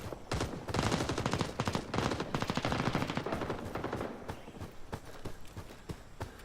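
Rapid machine gun fire in Rising Storm 2, a long dense burst of fast, even shots, loud and close, easing into sparser single reports.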